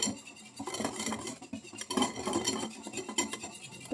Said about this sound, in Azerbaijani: İndi çırpıcıyla onu qəşəng çırpın.